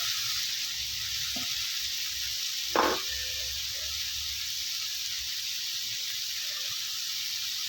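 Tomatoes fry in a pan for a ribbon dry fish thokku, giving a steady close sizzle throughout with one brief clatter of a utensil partway through and no talking.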